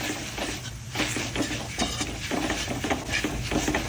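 Daikon radish is dry-stirred in a pan for a vegetarian Chinese herbal braise. Soft, repeated scraping and stirring strokes sound close over a faint sizzle, in an uneven rhythm.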